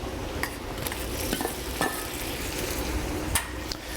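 Shrimp sizzle in a hot pan while risotto is made, a steady frying hiss broken by sharp clicks and clatters of tongs against the pan, close and moderately loud with no talking.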